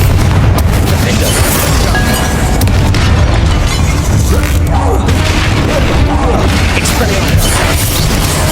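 The Confringo blasting spell in the Hogwarts Legacy video game explodes in dense, continuous, loud rumbling booms and crashes. Faint voices sit in the mix.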